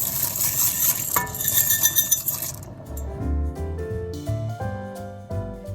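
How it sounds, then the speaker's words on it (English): Dry pasta is poured into a metal cooking pot, a bright rattling clatter of pieces hitting metal for a couple of seconds, then quieter clinks and settling sounds. "So I'm going to go ahead and add in the 1 cup of pasta"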